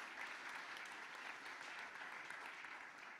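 Audience applause at a round-table conference on energy sufficiency and low-carbon renovation, a steady, even wash of clapping heard faintly and from a distance, continuing throughout without pause.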